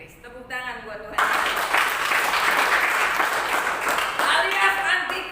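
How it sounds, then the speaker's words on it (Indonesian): A church congregation applauds during a sermon, a full burst of clapping that swells in after the preacher speaks and carries on for several seconds before his voice returns over it. "Tepuk tangan buat Tuhan."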